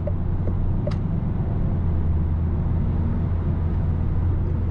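Cabin of a 2024 Citroen Berlingo 1.5 Blue van cruising on a highway: a steady low road and engine rumble with soft wind hiss, continuous and moderate, with no talking.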